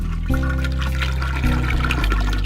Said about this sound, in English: You flush the toilet.